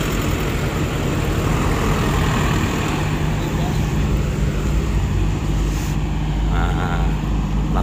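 A vehicle rolls past on the road during an impromptu street carnival, engine and tire roar dense and loud throughout, with talking mixed in.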